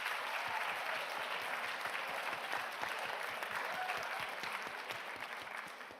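Audience applause at the Prix Jules Favre 2024 eloquence contest final, steady dense clapping from a large hall crowd sustained throughout, tapering slightly at the end.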